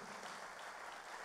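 A church congregation applauds during a worship service, a brief burst of dense, even clapping filling the room at moderate distance.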